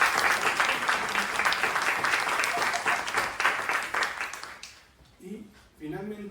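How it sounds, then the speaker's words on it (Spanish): Audience applause at a book presentation in Mexico, a dense steady clapping that fills the room, then fades out with a few words of speech coming in at the end. "Un fuerte aplauso, por favor."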